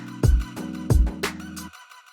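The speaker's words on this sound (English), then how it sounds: "with the ping pong on, it just adds more details" An Ableton beat loop carries a melody through a ping pong delay, with punchy kicks, chords and echoing stabs bouncing in a lively rhythm before fading out.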